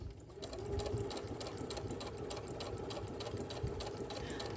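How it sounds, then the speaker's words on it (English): A sewing machine stitching fabric around a curve in a small beginner project, its needle running in a fast, steady mechanical patter, close and fairly quiet, with no talking. "I'm going to keep sewing around this curve"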